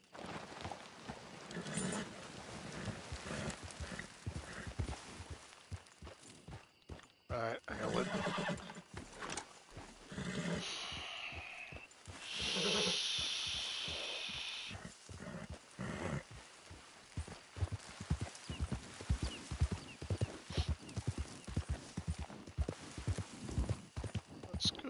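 Steady clip-clop of hooves from a horse in Red Dead Redemption 2's New Austin, with an occasional whinny, rhythmic and fairly close, running under ongoing speech and game ambience.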